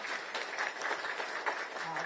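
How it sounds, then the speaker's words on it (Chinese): Audience applause at a Kuomintang gathering at Zhinan Temple, welcoming party chair Cheng Li-wen: a dense, steady wash of many hands clapping for about two seconds, with crowd voices mixed in. "我们给他热烈鼓掌"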